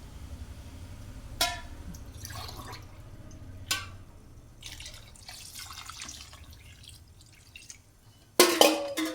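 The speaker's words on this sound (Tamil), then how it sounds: "2 டம்ளர் தண்ணி ஊற்றணும்." Water poured from a tumbler into a pot of suet for a Tamil suthu kozhuppu varuval dish, heard as splashing pours and drips with a couple of sharp clinks of glass or metal, fairly close and moderate in level, with no voices.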